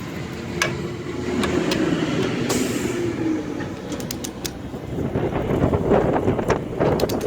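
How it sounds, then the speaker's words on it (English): Wind gusts outdoors during a suspension repair on a 2008 car, a steady low rumbling buffet against the microphone that swells and eases, with a few faint clicks. "It's getting awful windy out here."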